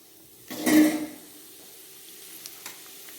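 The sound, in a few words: cinnamon, cumin and cloves sizzling in hot oil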